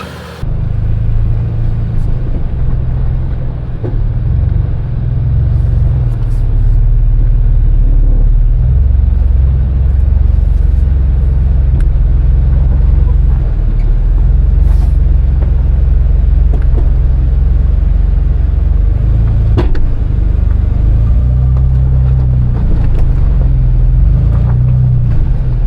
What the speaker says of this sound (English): go ahead and drive out hard driver.